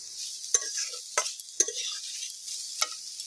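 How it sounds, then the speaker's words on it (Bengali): Potatoes and cauliflower frying in a pan over a wood-fired stove outdoors, a steady hiss broken by four or five sharp stirring scrapes and clinks, close and moderately loud. "মাছ ভাজা হয়ে এবার আমি আলু কপিগুলো ভেজে নিচ্ছি"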